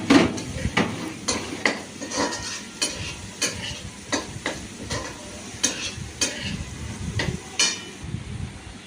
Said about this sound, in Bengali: এই গাজর আর আলুটা ঢাকা দিয়ে দিয়ে সকালবেলা তাড়াতাড়ি করে একটু ভেজে নিলাম।